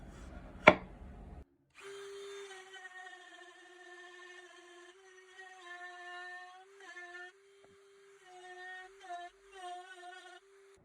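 A Dremel rotary tool spinning a Cutsall Extreme burr at 20,000 RPM whines steadily with a high tonal pitch while carving oak, after a sharp knock at the start, with small dips as the bit bites into the wood.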